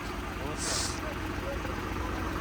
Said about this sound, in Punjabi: ਸਟਾਰਟਿੰਗ ਦੇਖੋ ਟਰੈਕਟਰ ਦੀ